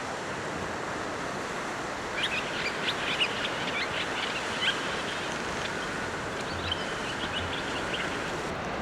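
Oystercatchers give faint, scattered chirping calls at coastal Danger Point, heard over a steady wash of surf.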